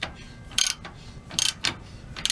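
A lock nut is tightened on an RV trailer axle's spring bolt, heard as four short bursts of metallic ratcheting, close and fairly loud, separated by brief quiet pauses.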